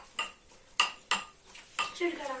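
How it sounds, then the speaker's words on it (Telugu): Mango pickle stirred with turmeric in a metal pot, Telangana-style, giving a few sharp metallic clanks and scrapes of a spoon against the vessel, close and moderately loud, with faint voices in the background. "పసుపు వేసుకొని కలుపుతున్నారు"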